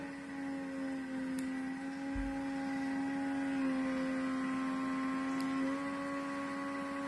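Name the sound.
vacuum sealer sealing a bag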